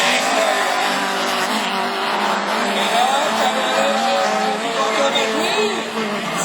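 Division 4 rallycross cars at Châteauroux brake hard into a corner, tires squealing and engines roaring in a dense, continuous racing din, with a commentator talking over the action.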